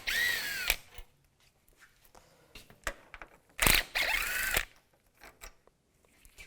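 A ratchet with a 10mm socket removing bolts while replacing the A/C condenser on a 2010-2016 Cadillac SRX, a couple of loud bursts of rapid ratcheting clicks separated by quieter clinks and handling noises.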